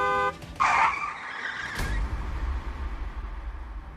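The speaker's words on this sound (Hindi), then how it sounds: "उसके ड्राइवर ने तुरंत ब्रेक लगाकर गाड़ी को दूसरी ओर घुमा दिया।" A car brakes hard and skids in a dramatized night scene, a sharp tire screech followed by a low rumbling engine and road noise that carries on steadily, with no voices.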